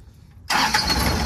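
A car engine cranks and fires into life after a quiet half second, then runs loudly and steadily close by, during an incline hill-start driving lesson.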